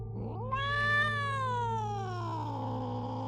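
A cat lets out a single drawn-out yowl, rising then sliding slowly downward over a few seconds, loud and close, set over a low steady hum as an eerie effect in a horror radio drama.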